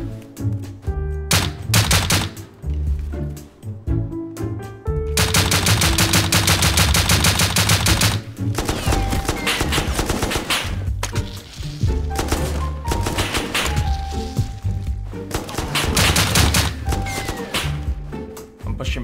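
An M249 machine gun in the survival game Rust fires in loud, rapid bursts, with sustained automatic fire and short pauses between volleys.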